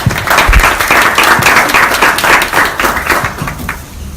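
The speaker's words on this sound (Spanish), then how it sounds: "Un aplauso para ellos, por favor." Close, loud applause from a small audience at a bar talk event, individual claps clearly audible in a brisk rhythm that gradually thins and fades toward the end.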